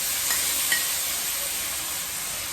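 Garlic and tomato sauté in a hot pan for Filipino ginisang ampalaya, a steady, fairly loud sizzle with light stirring and a couple of small pops, without talking.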